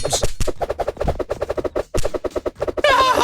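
Bombs going off in the video game Bacon May Die, a rapid close string of sharp popping blasts in quick bursts, ending in a brighter crackling burst, with no speech.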